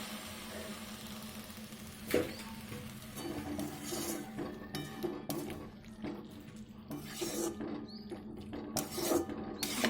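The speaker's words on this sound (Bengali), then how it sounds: "জল দিলাম, একটু নেড়ে দিলাম চারদিকটা, ঢাকা দিয়ে দেবো" Faint intermittent scraping and light clinks as a spoon stirs onion-stalk curry in a pan after water is added, with soft knocks against the pan in a quiet kitchen.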